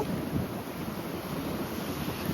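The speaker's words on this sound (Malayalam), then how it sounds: "അതാ വെള്ളം വന്ന് അമ്പാടിനെ മറിച്ച് കളയുന്നു." Continuous rushing wash of sea waves on a shore, steady and fairly loud with a windy, roaring texture and no voices.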